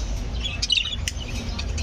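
Small birds chirp and tweet in a mini aviary housing Hagoromo rainbow birds, several short high calls overlapping close by over a steady background hiss.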